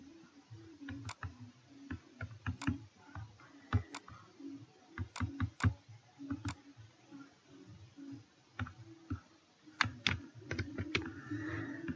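Text is typed on a computer keyboard while making a logo in MS Word, an irregular run of close, crisp key clicks and taps with brief pauses between bursts.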